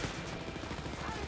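Gunfire in the Wolfenstein Youngblood video game, a dense, continuous barrage of shots that fills the whole moment without pause.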